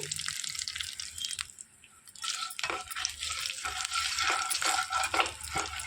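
Mustard seeds, dried red chillies, curry leaves and asafoetida temper in hot oil for an ivy gourd and coconut chutney. Close crackling and sizzling come with scattered sharp pops and a stirring scrape, and no one talks.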